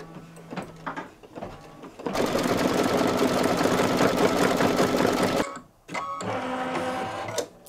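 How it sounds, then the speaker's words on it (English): An embroidery machine stitches a towel topper in a loud, steady rapid buzz for about three seconds, stops briefly, then resumes stitching, with short quieter mechanical sounds around it. "don't be afraid to stop the machine, take care of it, and then you can start up again."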